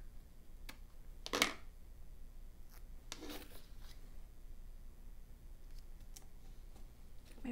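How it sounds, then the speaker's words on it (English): Scissors trim excess from a planner sticker sheet, making two faint, brief snips a couple of seconds apart over a quiet background with light paper rustling. "then we'll trim the extra part so that we can put it somewhere else"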